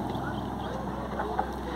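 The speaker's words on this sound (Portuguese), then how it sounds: "a saída do navio motor Lindo Amanhecer Terceiro, que segue sua viagem com destino a Manaus" The motor ship Lindo Amanhecer III pulls away on its voyage to Manaus, a steady low engine drone with faint water and wind noise, heard at a moderate distance.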